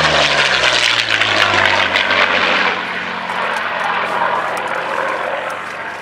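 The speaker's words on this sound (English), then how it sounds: "That really is a perfect sound, the sound of the V-12" P-40 Kittyhawk with a V-12 engine flying past at an air display at Cosford, its steady roaring drone loud and close, then sliding lower in pitch as it moves away, with no talk.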